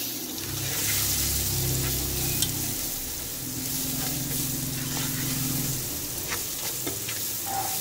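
Spices such as black pepper and dried coriander powder stirred in a pot for a potato chicken curry, giving a soft continuous sizzle with scraping stir strokes, close and moderate in level, no talk.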